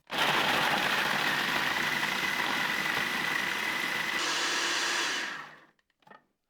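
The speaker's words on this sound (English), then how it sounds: "Now we want to go ahead and process these until they're in a crumb form." Food processor grinding Oreo cookies into crumbs, a loud steady whirring drone for about five seconds that then stops, followed by a few faint clinks, close by with no talking.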